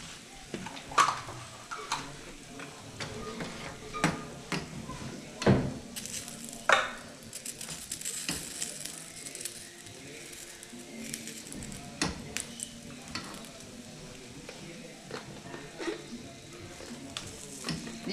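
Salsa poured over picaditas frying in a pan, a soft sizzle with scattered clicks and scrapes of utensils, faint and intermittent across the stretch.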